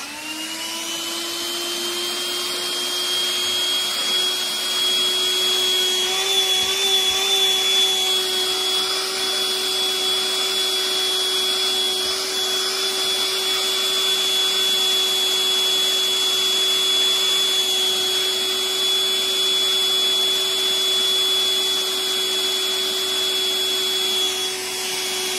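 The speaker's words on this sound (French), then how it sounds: "vous pouvez utiliser un aspirateur manuel" A handheld vacuum cleaner runs steadily while cleaning a laptop during a RAM upgrade, a continuous high-pitched motor whine with a slight wavering in pitch, close and loud throughout with no speech.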